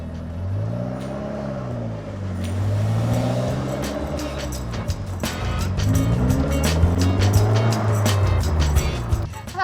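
A Polaris Slingshot SL three-wheeler pulls away, its engine revving up and down through rising and falling pitch sweeps, getting louder as it accelerates, with clicks and road noise layered on top.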